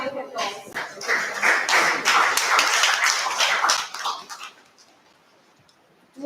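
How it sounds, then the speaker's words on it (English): An audience at a Toastmasters meeting bursts into brisk, dense clapping for several seconds before it thins out and stops, leaving a quiet room. "Let's give our winners a huge round of applause."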